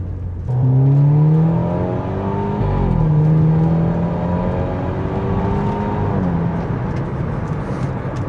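An Audi accelerating on the road, heard from inside: the engine note climbs steadily through a gear, drops at a shift, then rises again under a constant roar of road and wind noise.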